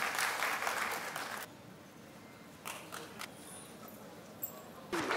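An audience claps at a welcome and felicitation ceremony: a dense burst of applause that stops abruptly, followed by a quiet stretch with a few scattered claps and rustles.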